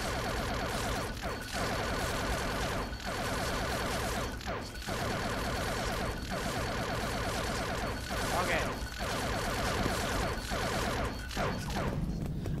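An auto turret in the Eden Star video game fires steadily at an enemy, producing a dense, continuous barrage of rapid shots with regular louder bursts that run loud and unbroken throughout.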